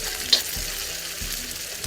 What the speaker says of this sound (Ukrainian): І не чіпаємо, хай смажаться.